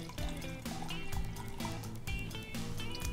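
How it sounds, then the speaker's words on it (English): Wine pours from a bottle into a glass during table service, a steady, close liquid fill with gurgling and trickling that runs continuously for a few seconds, with faint background room noise. "You want to pour enough into the glass so the customer has enough to sip on for a little while"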